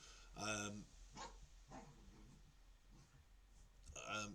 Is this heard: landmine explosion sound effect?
no